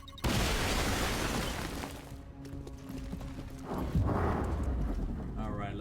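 Breach explosion in the video game XCOM Chimera Squad: a loud sudden blast with crackling debris, followed by further thuds and impacts, under a voice talking.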